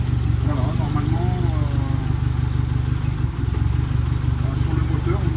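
A freshly restored engine idles steadily with a deep, even rumble and a light mechanical clatter, with a slight exhaust leak, close and loud throughout.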